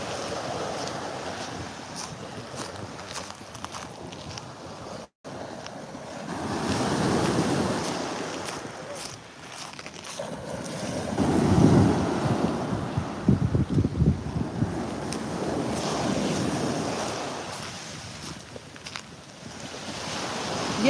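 Ocean waves roll in at a busy off-season beach in May while wind rumbles across the microphone, with steady surf swelling and breaking in repeated washes, close and continuous, and no talking.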